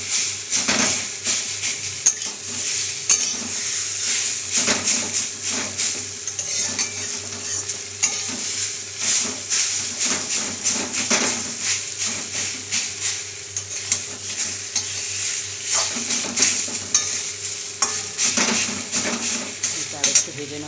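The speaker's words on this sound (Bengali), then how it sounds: "কচু শাকটা ভাজা হয়ে যাচ্ছে" Taro leaves fry with hilsa fish head in a pan, with a continuous close sizzle and repeated scraping strokes of a spatula stirring throughout.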